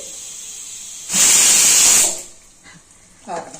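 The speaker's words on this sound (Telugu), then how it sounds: "ఆఫ్ చేసినాక కూడా విజిల్ వచ్చింది" A single loud, shrill pressure cooker whistle, released after the stove is switched off while cooking tomato bath, hisses for about a second and then fades, followed by a short bit of nearby speech.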